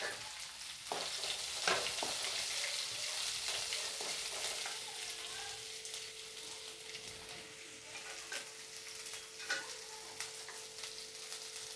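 Small onions and coconut sauté in a pan for ada dosai with a soft, steady sizzle and occasional light stirring clicks, quiet and close with no talk.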